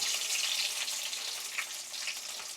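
Garlic and dried red chillies fry in hot oil for mango pickle, giving a steady, close crackling sizzle with small pops and no voices.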